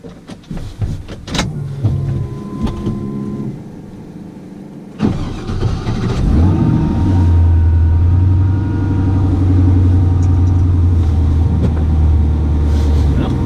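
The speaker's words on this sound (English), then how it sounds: "I also get a sample of the exhaust, how it sounds before I take it apart" A 1980 Chevrolet C10 with a swapped 5.3 LS V8 cranks briefly after some clicks and handling noise, catches and settles into a steady, deep, loud idle that runs on continuously up close.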